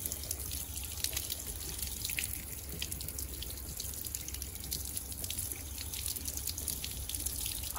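Running tap water splashes steadily over a Samsung T7 Shield portable SSD held under a faucet to rinse off sand. The hiss of the stream is continuous and close, with no talking.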